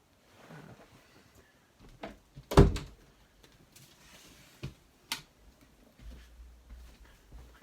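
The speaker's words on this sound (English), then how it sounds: "Just have to close the door." A door is pushed shut with a single loud, sharp thud, framed by faint shuffling, light clicks and a low rumble in an otherwise quiet room.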